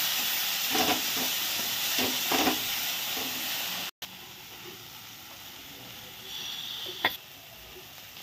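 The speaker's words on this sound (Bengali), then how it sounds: "মশলা সব ভালো করে কষিয়ে নেওয়া হচ্ছে।" Spices for an egg curry sizzle and hiss steadily in a hot pan, a loud continuous frying wash with a few scraping stir strokes early on, a brief cut near the middle, then quieter sizzling with a short sharp knock.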